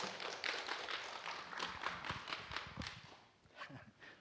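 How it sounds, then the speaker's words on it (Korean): A church congregation at a Bible study session applauding as the pastor comes forward, a steady patter of many hands clapping that tapers off near the end. "뭐 매번 나오는데 박수를 치십니까?"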